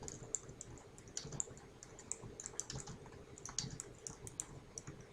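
Steady typing on a computer keyboard while entering customer book orders into a spreadsheet cell, with quick irregular key clicks and occasional louder keystrokes at close range, no voices.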